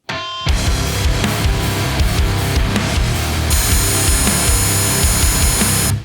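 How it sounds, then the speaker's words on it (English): A long drill with a spade bit bores a hole straight through a shop wall, a loud, close, continuous grinding whine with a rough, rasping texture that runs steadily for several seconds before stopping abruptly. "We're going to drill through this wall."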